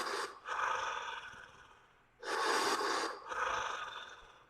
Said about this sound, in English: Last 10 breaths of our third round.